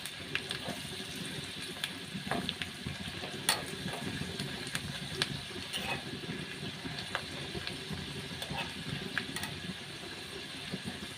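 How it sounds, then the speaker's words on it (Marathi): Dried red chillies crackle in a hot oil tempering, a faint, continuous sizzle dotted with small pops and clicks. "नंतर सुक्या लाल मिरच्या घालायच्या आहेत आणि ही छान फोडणी होऊ द्यायची आहे"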